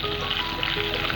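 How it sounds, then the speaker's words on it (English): Chopped ginger and green chilies roast in oil with jeera, giving a steady, close, even sizzle with no talking. "Now add ginger and green chilies that I have chopped. Roast it."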